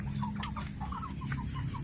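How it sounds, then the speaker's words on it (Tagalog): Pet turkeys kept in a pen with chickens give soft, repeated clucks and short calls, faint and fairly close against a steady low background hum. "silipin natin yung mga alaga kong pabo"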